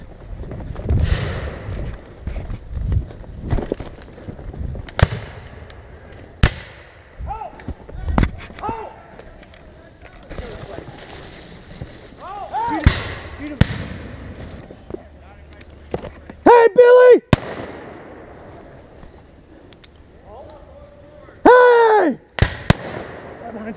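Civil War reenactment gunfire: several loud black-powder shots and sharp cracks, some close and some farther off, scattered irregularly among shouted voices, bugle-like calls, footsteps and hooves.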